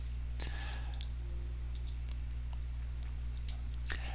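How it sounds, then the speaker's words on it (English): Several crisp mouse clicks on software buttons in WARDCAM CNC programming software, scattered sparsely over a steady low electrical hum, close and fairly quiet with no talk. "Hit your next button, put your toolpath back on there, hit the next button again, and then click on the CNC button again."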